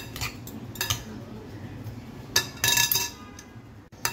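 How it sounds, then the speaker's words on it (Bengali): A cucumber salad dressed with vinegar is stirred and tossed in a bowl, with light utensil clinks and scraping taps against the dish, close and soft, plus a brief busier burst of clinking. "তো এখন খুব ভালো করে এটাকে নেড়ে চেড়ে নিচ্ছি"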